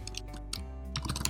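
Computer keyboard typing while code is entered to save data into a database, with close, uneven bursts of key clicks over a steady low hum and no talking.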